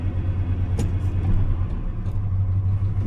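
A 1996 Ford F-350 with a 351W V8 runs at a steady, throaty idle, its low engine rumble close and continuous with a brief rev bump partway through.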